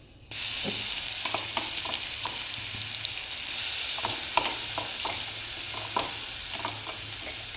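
Mustard seeds and green chillies sizzle steadily in hot oil while cooking, with a continuous frying hiss and scattered sharp pops and crackles from the seeds, close and fairly loud throughout.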